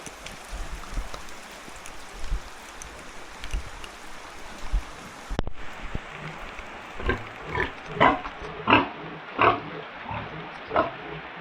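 Steady heavy rain patters throughout, then a sharp knock, followed by a series of low grunts from large pigs close by, spaced out irregularly.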